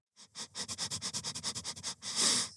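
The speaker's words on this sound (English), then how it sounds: "All I could hear was this monster's nose sniffing the ground." A dog sniffs the ground rapidly at close range, a quick rhythmic series of about a dozen short snuffles ending in a longer, louder exhale.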